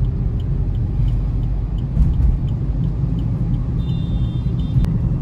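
Steady low engine rumble and road noise from a Maruti Wagon R running on CNG while driving in monsoon conditions, continuous and fairly loud from inside the cabin, with a brief faint whistle-like tone near the end.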